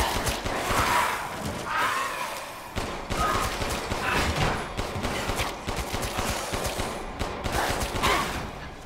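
Rapid bursts of gunfire in Resident Evil Village come in a loud, dense barrage, with sharp repeated shots and thuds layered over tense game sounds.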